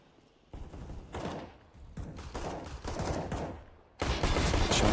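Automatic rifle gunfire in Counter-Strike on the Train map during a Virtus.pro vs Cloud9 match, sustained bursts of rapid shots growing louder, with a heavy final burst near the end, no talk.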